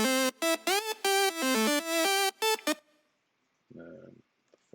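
Stacked synth leads for a drop play a quick, choppy run of bright, harmonically rich notes in a rhythmic pattern, then cut off, leaving near silence broken by one short, muffled tonal burst.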